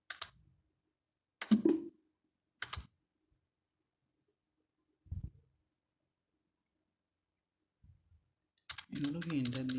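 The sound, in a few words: computer keyboard keys being pressed in Tally Prime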